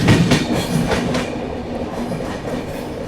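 A train passes near Midghat station on an Indian railway line, heard as a loud, steady rumble with rhythmic wheel clatter that eases slightly as it goes by.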